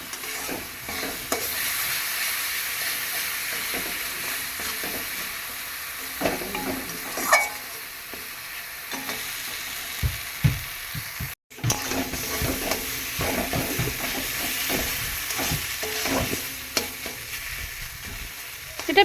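Pointed gourd paste stirred and fried in a pan with salt, giving a steady sizzle broken by repeated scraping strokes of a spoon, close and fairly loud, with a brief dropout midway.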